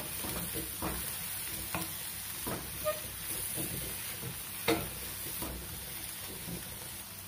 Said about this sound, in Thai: ป้าใส่ไส้กรอกลงไปเลยนะคะ คั่วไปจนสุก